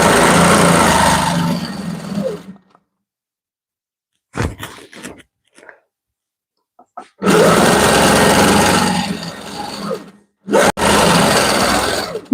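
A sewing machine whirs in long, steady runs while stitching in the ditch on a wedding ring quilt, broken by a few near-silent pauses and brief handling noises.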